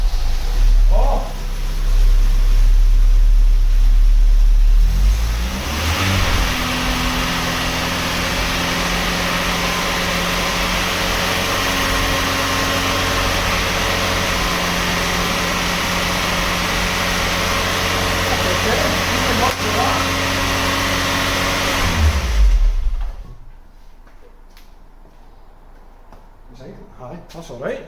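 A converted 2.0 eight-valve car engine cranks and fires, settling into a loud, steady run with a droning tone for most of the stretch before cutting off abruptly, leaving faint background noise.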